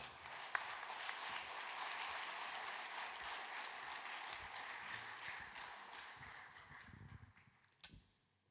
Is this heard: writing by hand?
no